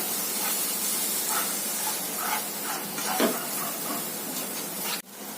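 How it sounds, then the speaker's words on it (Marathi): Ground masala paste sautéing in a pan over a medium gas flame for a jackfruit seed curry, a steady soft hiss and sizzle with faint stirring scrapes, ending with a brief drop near the close. "हे अर्धी वाटी वाटण आहे, ते पण आता चांगलं 2 मिनिटं परतून घ्यायचं आहे आपल्याला मीडियम गॅसवरती"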